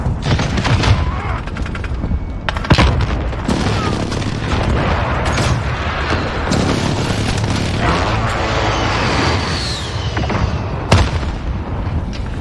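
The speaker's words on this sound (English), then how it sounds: "Allied precision airstrike incoming." Dense, continuous gunfire and heavy booms from a precision airstrike in the Call of Duty shooter, set on the Shoothouse map with a FAMAS rifle, rolling explosions and rattling shots packed loudly together with no pauses.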